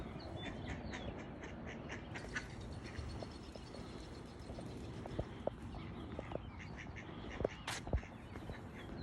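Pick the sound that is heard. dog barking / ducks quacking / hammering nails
ducks quacking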